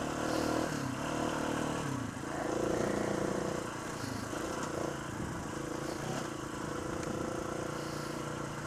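A 2011 KTM 690 Enduro R single-cylinder motorcycle running after a motor failure, a steady low engine drone with slight rises and dips in revs, close and continuous with wind and road noise mixed in.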